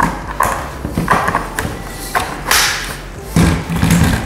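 Solid plastic thuds and knocks as a magazine is pushed into a QBZ 95 toy dart blaster, several close, loud impacts in quick, uneven succession with no talking.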